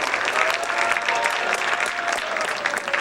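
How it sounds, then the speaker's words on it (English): High school jazz ensemble's audience gives a dense round of applause at a concert, continuous clapping from a sizable crowd, close and steady throughout. "one more round of applause for our Jazz Ensemble 1 and our 10th annual"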